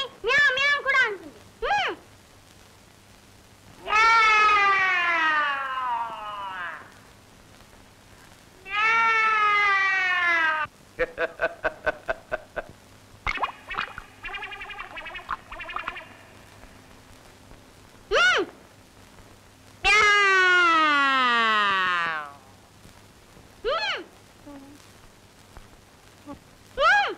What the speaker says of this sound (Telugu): పిల్లి మ్యావ్ మ్యావ్ కూడా అంటుంది.